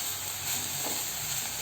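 Coriander stems sauté in a pan with a soft, continuous sizzling hiss, quiet and steady throughout the brief moment.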